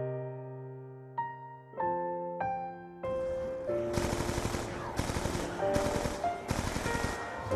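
Submachine gun fire from a video game: a few brief clicks and weapon handling lead into several loud, sustained automatic bursts separated by short pauses.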